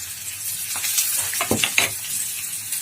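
Potatoes fry loudly in a pan as chopped onion and hot chillies are tipped in, a constant close sizzle with a burst of sharper crackling and stirring scrapes midway.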